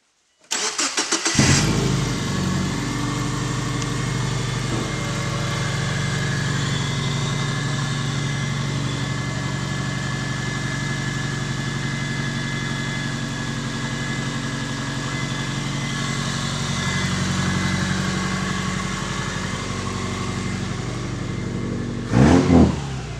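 A Subaru Impreza with a modified intake cranks and fires up, then runs at a strong steady idle with a raspy intake note for about twenty seconds before a brief sharp rev near the end, loud and close, with no talking.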